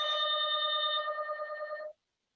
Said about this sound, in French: Il y a quelqu'un qui sonne.